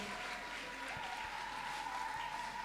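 A church congregation claps and cheers for the Lord in a continuous, even burst of applause, with a sustained musical tone running underneath.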